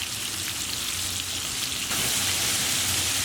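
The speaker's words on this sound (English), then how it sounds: "So all we're doing, guys, is browning them on all sides." Spanish meatballs browning in a frying pan give a constant close sizzle that swells slightly louder partway through, without speech.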